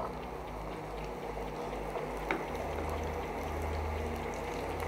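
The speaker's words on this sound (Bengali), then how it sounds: "কচুরলতিগুলো আমি তেলের মধ্যে হালকা করে ভেজে নেব।" Taro stolons frying in mustard oil with kalo jeera tempering, giving a steady close bubbling sizzle with a low humming undertone that continues evenly throughout, with no talking.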